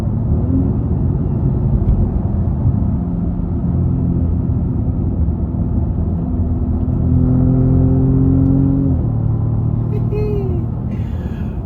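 An Audi S6 with 32k miles revs as the driver downshifts, its engine note climbing in pitch over a constant low road rumble, with the tone rising and falling in smooth sweeps.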